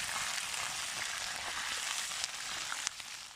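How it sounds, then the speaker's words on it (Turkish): Steady, dense sizzle of meat frying in a hot pan, with occasional sharp pops and crackles, close by and fairly loud throughout. "Etlerimizi şimdi tavada tak kızartıyoruz."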